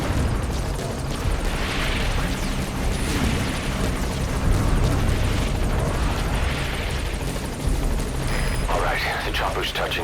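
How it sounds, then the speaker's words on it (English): Helicopter in Metal Gear Solid V: The Phantom Pain touching down, a loud steady rotor roar and engine rumble filling the whole stretch alongside other game noise. "Chopper's touching down."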